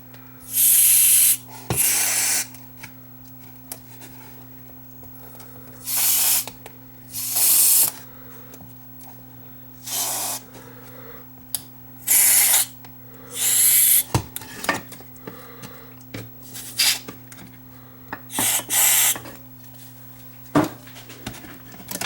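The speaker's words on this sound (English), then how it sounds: "we'll spray some cleaner into these switches." Short bursts of aerosol cleaner spray hiss repeatedly into the switches of a Sears DK5658 cassette player, several quick blasts with pauses between, close up, over a steady low electrical hum.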